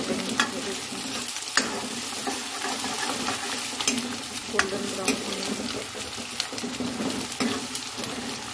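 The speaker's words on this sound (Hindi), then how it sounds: "अब देखिए प्याज पूरी तरह से भून चुका है।" Chopped onions fry and sizzle in a pan for an eggplant bharta, with a steady hiss broken by occasional clanks and scrapes of a spoon stirring them.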